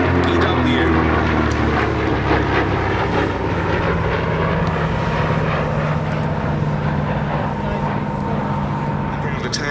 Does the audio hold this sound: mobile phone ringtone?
no